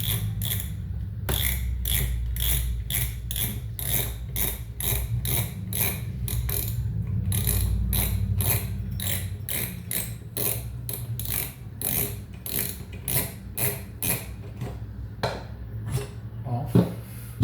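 Okuma Surf 8000 spinning fishing reel cranked by hand during cleaning, giving a steady run of close, rapid ratcheting clicks and gear whir that continues throughout with no talking.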